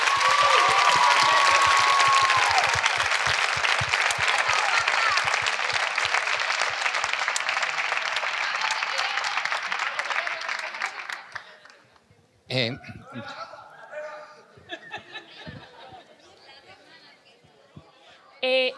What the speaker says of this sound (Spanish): yo les mando un aplauso enorme desde aquí